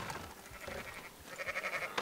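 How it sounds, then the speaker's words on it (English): Sheep bleat faintly at a distance in the Red Dead Redemption 2 video game, a few wavering calls over soft outdoor ambience with no talk. "Fine sheep."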